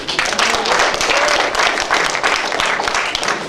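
Lively audience applause at a comedy roast, a thick, even burst of many people clapping nearby, holding steady from start to finish with no speech.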